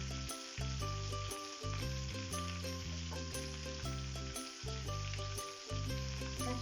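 Onions, one large and one small, sizzle steadily in hot oil in a pan for a soyabean chunk curry, a constant crackling hiss running under loud melodic background music.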